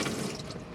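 Water runs steadily from the tap of an Adria Twin 640 SGX Sport motorhome, a soft continuous splashing into the sink, close and fairly quiet, with no talk over it.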